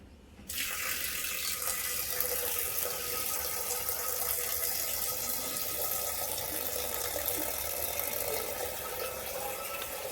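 Water from a kitchen tap gushes steadily into a pot after a brief quiet start, a loud continuous splashing rush up close.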